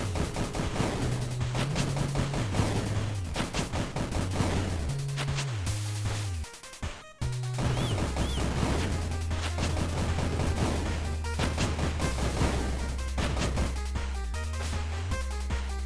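Rapid bursts of shooting and popping explosions fill a fast indie arcade shooter, Monolith, as enemies blow apart and release revenge bullets, dense and continuous over a looping electronic music track, with a brief dropout midway.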